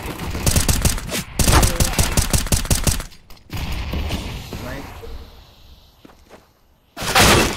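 Rapid bursts of automatic gunfire from Counter-Strike: Global Offensive, two loud volleys, then a quieter stretch of mechanical clicks and shuffling steps, ending in another sharp burst.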